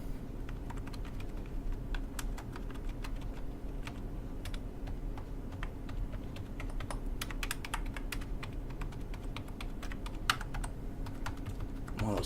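Typing on a Blackweb slim low-profile silent keyboard: a steady run of soft, rapid key clicks with occasional sharper taps, close-up and moderately quiet against a low background hum, no talking.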